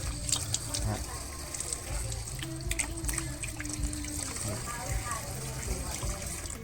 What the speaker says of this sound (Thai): ผมล้างมือให้เอี่ยมก่อน